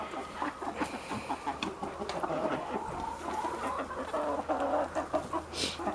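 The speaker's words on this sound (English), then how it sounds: "I don't know exactly what kind of chickens these are." Chickens of several mixed breeds cluck and chatter in an ordinary barn, a busy overlapping flock of steady, close, moderately loud calls with occasional sharper squawks.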